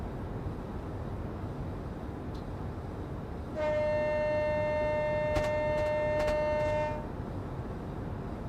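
Heard from inside a southbound Class 801 train to Kings Cross on the East Coast Main Line, a steady rolling rumble continues as the train runs over the rails, and a horn-like tone sounds for a few seconds midway.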